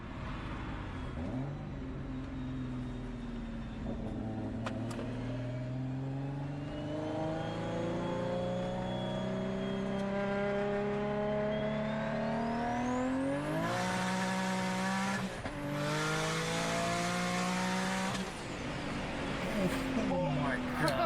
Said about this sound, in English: Did you not hear that turbo spooling?